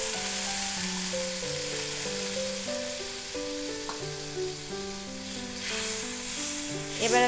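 Fried garlic spice paste keeps sizzling in a pan after water is poured in, a constant hissing crackle beneath steady background music that swells slightly at the end.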